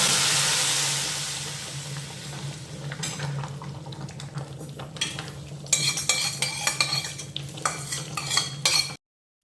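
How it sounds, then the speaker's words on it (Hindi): Hot tempering hits the dal with a loud sizzling hiss that fades, followed by a spoon stirring and scraping against the pot with uneven clinks. "तड़का रेडी हो गया है, इसको इसमें डालेंगे। ये दाल को इधर करते हैं, सारे तड़के।"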